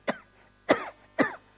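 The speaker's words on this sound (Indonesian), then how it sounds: "Batuk-batuk." Three sharp coughs from an adult man, evenly spaced with short pauses between them, close and fairly loud with no speech.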